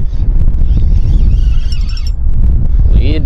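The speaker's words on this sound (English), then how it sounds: "There's so much wind, like, I actually can't tell." Strong wind gusting over open water during bass fishing in 20+ mph conditions, a heavy, steady low roar buffeting the microphone for the whole stretch with no voices.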